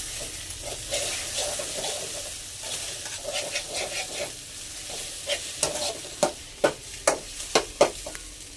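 Egg fries in a pan on a medium flame with a soft steady sizzle while a spatula scrapes and stirs it, the scraping growing into sharper, evenly spaced strokes toward the end.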